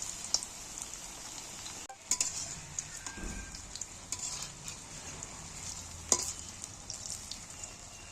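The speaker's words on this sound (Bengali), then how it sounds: "এটা কিন্তু আমি অল্প অল্প করে দিয়ে ভাজবো" Green jackfruit and prawns fry in a pan with a steady soft sizzle while a utensil stirs and scrapes now and then, close and fairly quiet, with no one talking.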